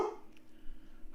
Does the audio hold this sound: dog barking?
yes